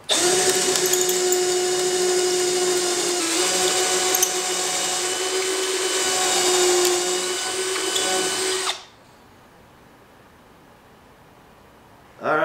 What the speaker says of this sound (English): we're gonna pocket hole these